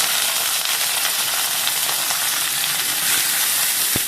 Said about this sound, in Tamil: இதுல பாத்தீங்கன்னா கொஞ்சம் எண்ணெயில கடுகு சேர்த்துக்கிறேன்